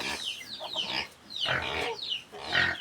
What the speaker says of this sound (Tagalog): Yan po ang ating mga native pigs.